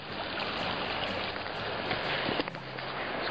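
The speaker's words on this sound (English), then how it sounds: "Right by the river." A river flows past in a continuous broad rush of water, steady and fairly close, with a few faint knocks and rustles over it.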